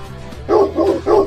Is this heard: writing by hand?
no